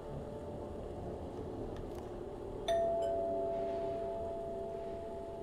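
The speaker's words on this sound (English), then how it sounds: "Ring the doorbell." Doorbell chime in the video game Returnal, one clear electronic ring that sustains and slowly decays over a low, steady background hum.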